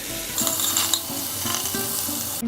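Butter sizzling as it melts in a hot pan for a cream sauce, a steady crackle with a few clinks of a utensil against the pan.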